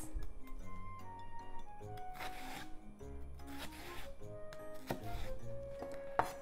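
A knife cuts slits into a Japanese leek on a cutting board, making a series of crisp, close taps and crunches at an uneven rhythm that ends with a sharper knock.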